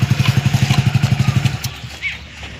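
A motorcycle engine at idle, a rapid regular chugging thump close by that cuts off after about a second and a half, followed by faint background noise.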